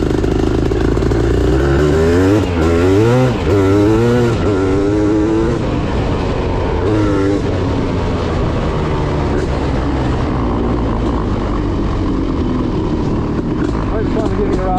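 Honda CR500 dirt bike engine from a Schwinn project build, revving hard with rising and falling pitch sweeps during a ride, loud and close, then settling into a steady rough drone, with people talking over it.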